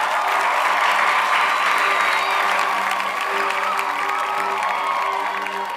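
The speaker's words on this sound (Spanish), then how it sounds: "Denle un aplauso" A church congregation applauds during a Spanish-language service, a loud sustained burst of clapping mixed with cheers and a few whoops, with voices faintly audible under it.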